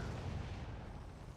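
Cannons fire in the online fantasy battle game Warhammer Online, heard as a continuous low, rumbling boom that rolls on steadily at moderate distance and fairly faint level.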